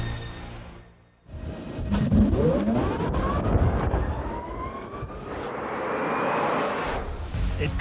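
An all-electric supercar accelerates hard, its rising electric whine sweeping up in pitch in several climbing tones after a brief dip, loud and close, with no talking.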